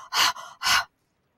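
A voice imitates the panting of someone who has just run fast: two loud, breathy huffs close to the microphone, the first a double burst, followed by silence.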